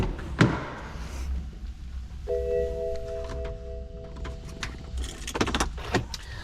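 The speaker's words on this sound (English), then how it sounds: "Grab the keys." Keys for a stock BMW E92 M3 jingle and clink in a few light metallic rattles close by, with soft thumps and a steady low hum underneath.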